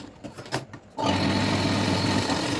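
A brief quiet rustle gives way to a sewing machine running steadily, stitching tucks into a cut-work blouse with a loud, even mechanical whir close by.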